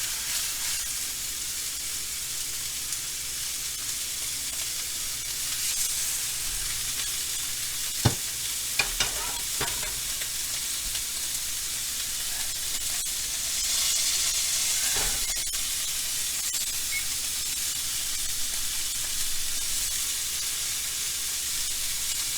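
Beef chuck underblade steaks sear in a hot pan, a steady loud sizzle with faint crackles and a few sharp clicks from the pan or utensils.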